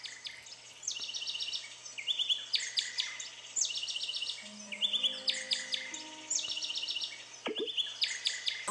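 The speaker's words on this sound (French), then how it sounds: "Au fait, avez-vous entendu l'oiseau voler ?" A bird in an iOS 3D audio game chirps in repeated rapid trills, bright and close, over a soft steady hum, with no voices.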